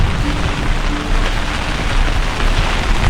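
Rain falling steadily during a walk outdoors near water in Manchester, a loud, dense, even hiss of drops hitting surfaces that runs unbroken and close throughout, with no voices.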